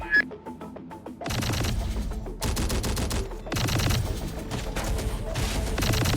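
Dense, loud gunfire fills a Terminator Dark Fate Defiance battle, with rapid automatic bursts and heavy booming rocket blasts layered continuously, some combat radio voices faint underneath.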